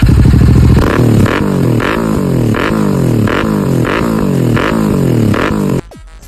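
A Royal Enfield Continental GT 650 fitted with an SSP exhaust is revved hard in a fast series of sharp blips, each rising and falling in pitch, loud and close before cutting off abruptly near the end.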